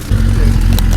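A Suzuki motorcycle engine warms up close by, a loud steady low rumble that kicks in abruptly and holds, with people talking nearby.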